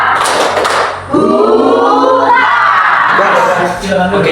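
A class of second-grade elementary schoolchildren performs the tepuk semangat spirit clap, a loud, close burst of unison shouting and chanting mixed with rhythmic hand claps.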